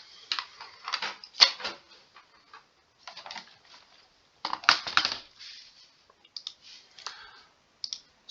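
Code is typed on a computer keyboard in irregular bursts of light, close key clicks, with short pauses between runs.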